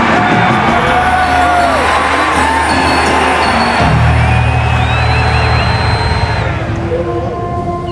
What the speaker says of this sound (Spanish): por todas partes, la gente gritaba con entusiasmo al ver al dios vivificador